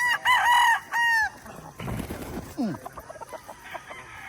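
A rooster crows loudly nearby at a game farm, then more fowl cluck and crow in the background, with a voice briefly audible.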